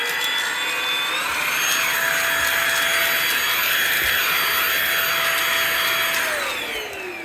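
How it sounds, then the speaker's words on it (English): A vacuum cleaner sucks up spilled pine cat litter pellets, its loud whining motor running steadily with rattling and rubbing as pellets are drawn in, the pitch shifting before it winds down at the end. "Vacuum it back."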